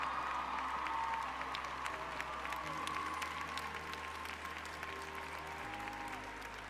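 An audience claps steadily in a sustained wash of applause that stays loud and even throughout, with a low steady hum beneath and no voices on top.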